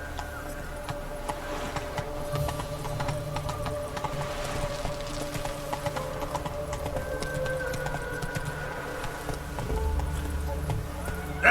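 Horse galloping in The Witcher 3 video game, rhythmic hoof clip-clop with occasional snorting and jangling tack, moderately quiet under game ambience.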